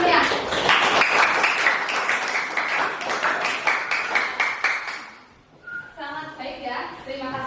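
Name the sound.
audience applause, clapping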